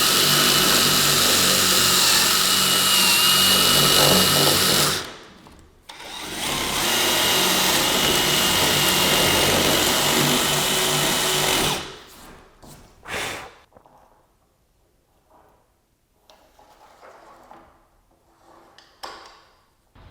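A Festool OF 1400 router cuts a dado groove into a wooden barn door, roaring loudly in two long steady passes with a brief break, then winding down to quiet handling noises.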